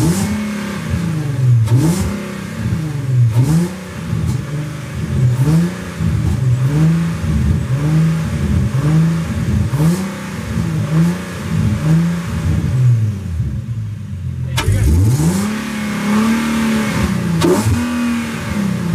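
Infiniti G37xs sedan fitted with a cold air intake, revved loudly and up close in a rapid, repeating rise-and-fall pattern. The revs pause briefly, then one long rev follows.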